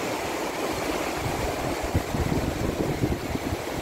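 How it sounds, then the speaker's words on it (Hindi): Fast-flowing river water in the mountains near Harrand, Rajanpur, Pakistan, a dense continuous rushing roar with low churning surges, steady and close, with no voices. "ये पानी बहुत तेज़ बह रहा है"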